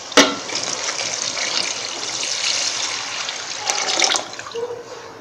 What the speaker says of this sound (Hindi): अब हम इसमें 3 गिलास पानी शामिल कर देंगे